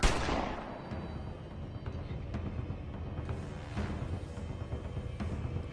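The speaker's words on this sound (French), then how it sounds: "il a tiré à 2 reprises" A sharp, loud gunshot crack at the start rings out and decays, followed by fainter distant thuds over a steady low rumble.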